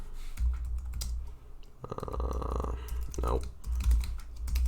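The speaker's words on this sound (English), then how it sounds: "So I guess I'll just write up a little main.java program." Fast typing on a computer keyboard while writing a small Java program, a run of crisp key clicks near and fairly loud, mixed with a man's speech in the middle.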